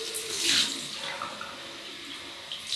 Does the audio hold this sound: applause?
no